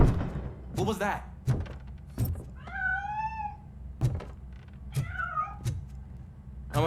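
A cat in the RoboCop: Rogue City video game gives two clear, rising and falling meows between repeated heavy thuds and footsteps, against a low background rumble.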